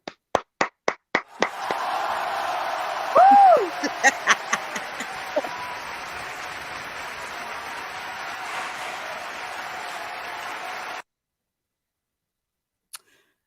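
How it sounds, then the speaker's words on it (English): Scattered claps open, then a sustained wash of audience applause with a few whoops at an award show, fading out abruptly after about eleven seconds, followed by a lone tap near the end. "Let's get a round of applause for the fucking government."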